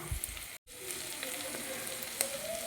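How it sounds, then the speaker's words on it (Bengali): Chopped onion and ginger fry in a pan with a steady, moderate sizzle and light stirring. There is a brief silent gap near the start, and no one speaks. "এবার দিয়ে দেবো আমি পেঁয়াজ কুচি এবার আমি দিয়ে দেবো আদা"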